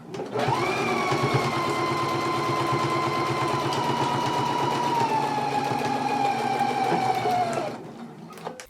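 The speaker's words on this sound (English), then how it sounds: "now we can go to the machine and you want to stitch it at a 5/8 of an inch seam allowance" A sewing machine runs steadily, stitching a 5/8-inch seam on a jacket band, a fast even motor whir with rapid needle ticking held for about seven seconds before it winds down and stops.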